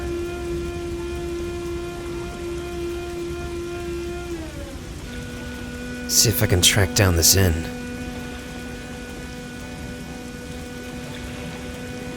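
Steady rain falling in the Fallout 3 video game, a constant soft hiss beneath a droning musical tone, with someone speaking briefly partway through.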